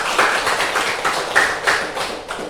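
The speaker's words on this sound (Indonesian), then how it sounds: "Iya, tepuk tangan dulu." A seventh-grade class claps together in rhythmic bursts, a dense, loud patter of many hands that swells and dips in a few pulses, with no talking over it.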